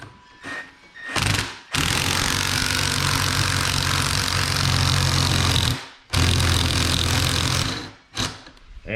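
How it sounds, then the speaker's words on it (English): A Milwaukee M12 1/4 inch impact driver hammers in long, loud bursts as it drives a puller off an electric motor bearing, with a few short blips before and after the main runs. "We're just using this small 1/4 inch Milwaukee M12 impact, and that should pull that bearing."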